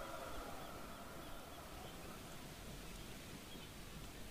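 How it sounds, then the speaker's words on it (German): A soft, steady rush of sea or blowing sand in the game Jusant, like a faint, even hiss of wind and surf that stays level throughout with no voices. "Ich höre das Rauschen des Meeres. Oder des Sandes?"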